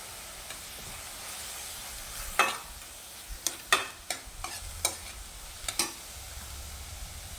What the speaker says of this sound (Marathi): 2 ते 3 मिनटं परतून घ्यायचं